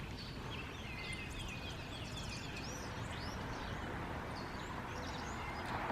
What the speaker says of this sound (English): Do you hear the birds singing?